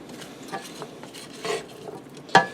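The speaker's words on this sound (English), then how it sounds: "You just want to mix everything together well, get your spices well incorporated throughout your potatoes." Sausage, potatoes and spices stirred in a skillet with oil, a close spatula scraping in short strokes over a light sizzle, ending with one sharp metallic clink against the pan.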